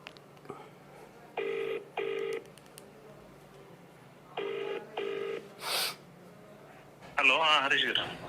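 A phone call placed on a live television news line: short dial-tone bursts and ringback pulses sound one after another against quiet, and a brief voice-like burst comes at the end.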